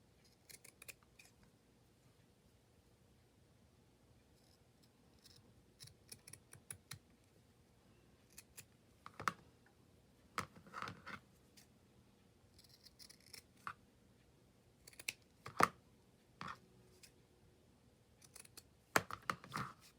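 Scissors snip through a piece of burlap fabric in a quiet room, a string of crisp, close cuts arriving in irregular bursts that grow busier toward the end.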